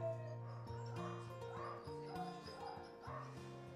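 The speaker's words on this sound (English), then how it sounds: "Yeah, this is a street dog." A street dog at a vet clinic in Pokhara, Nepal, gives a run of high whimpers, whines and short yips, close by and fairly soft, with barely any other sound behind it.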